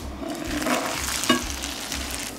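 A potato rosti set back into a pan of oil fries with a steady low sizzle and a sharper crackle as it lands, close and alone, without talk.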